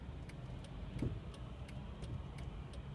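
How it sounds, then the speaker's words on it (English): Car traffic passing around a busy mini roundabout, a faint steady road rumble heard from inside a vehicle, with light regular ticking like an indicator over it. "So you check it to your right, there's quite a bit of traffic going on."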